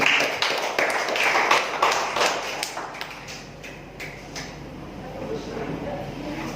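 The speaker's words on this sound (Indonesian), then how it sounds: "Tepuk tangan untuk itu." Scattered audience clapping at a Hindu talk and discussion event on the challenges facing young Hindus, sharpest in the first few seconds and then thinning, with voices murmuring underneath.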